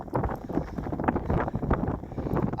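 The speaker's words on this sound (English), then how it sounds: "Try to get out of this wind for a moment." Strong wind blowing outdoors on New Zealand's North Island, a steady loud rumbling buffet against the microphone throughout, with no voices.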